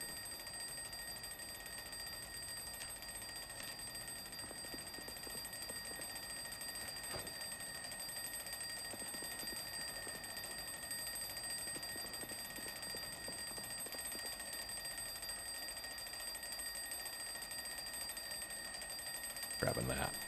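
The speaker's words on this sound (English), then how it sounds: "where is that alarm clock at?" An alarm clock rings in the survival game Project Zomboid, a steady high electronic tone with fixed pitch that persists throughout, fairly quiet, with faint clicking in the background.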